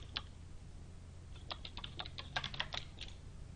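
Someone typing a search on a computer keyboard, a quiet run of quick key clicks: one early tap, then a rapid burst of keystrokes in the second half, alone and faint.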